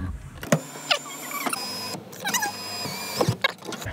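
An electric car sunroof motor whirs in short bursts as the roof opens, with soft clicks and mechanical clunks as it stops and restarts, close and quiet inside the cabin with no talking.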